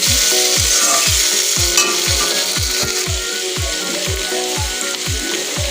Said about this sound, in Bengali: আলুগুলোকে আমি ভেজে নেব।